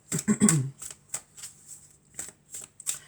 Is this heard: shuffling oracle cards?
yes